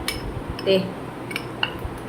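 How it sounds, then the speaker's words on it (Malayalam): Sugar being stirred into egg white in a pan: soft, scattered clinks and scrapes of a utensil against the pan, fairly quiet and irregular. "പഞ്ചസാര മൊത്തം ലയിച്ച് വരുന്നവരെ ഇളക്കിക്കൊണ്ടിരിക്കുക"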